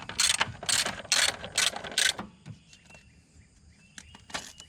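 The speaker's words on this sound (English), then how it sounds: "You can use an 8mm socket to loosen this battery mount." An 8mm socket ratchet loosens the battery mount on a 2001 Ford E250 van, giving four or five quick bursts of close, crisp clicking, then a sparse tail of faint ticks.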